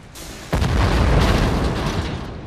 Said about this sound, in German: So eine kleine Explosion.